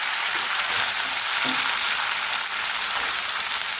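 Potatoes with garlic, ginger and green chillies fry in a generous amount of hot oil for a pav bhaji, giving a steady, loud, close sizzle with faint stirring and no voices.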